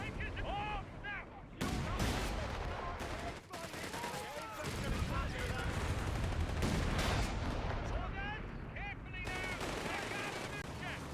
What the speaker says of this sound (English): Our platoon command post is under enemy fire.